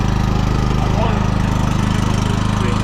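A generator running steadily at a rural village shelter point in Kherson region, a loud low rhythmic engine chug with a constant mechanical drone close by, no talk.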